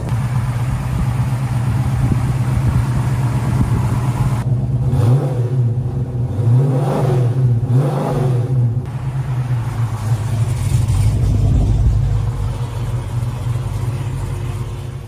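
Dodge Charger muscle car with a 426 Hemi V8 engine, a deep steady idle broken by several sharp throttle blips and revs in the middle, loud and close, settling back to a rumbling idle.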